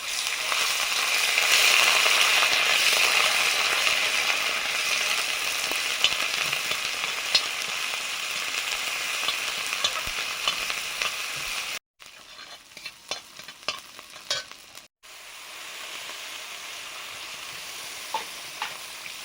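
Turmeric, ginger paste, cumin and dry chilli paste sizzle loudly in hot oil, a dense continuous crackle with stirring scrapes that briefly cuts out twice before the frying hiss returns.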